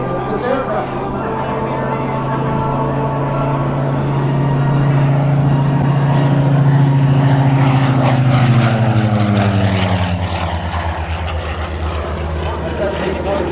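Propeller aircraft making a flying pass at the Geneseo air show, a loud sustained engine drone whose pitch slides steadily downward as it passes, with a commentator talking over it throughout.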